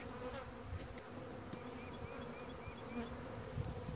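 Honey bees from a newly installed package buzz around a queen cage, feeding on its candy plug; a steady, fairly quiet hum of many wings runs throughout with no voices.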